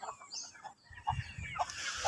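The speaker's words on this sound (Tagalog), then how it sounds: "native chicken" A native chicken clucks nearby in a few short, soft calls, with faint rustling and outdoor background noise around it.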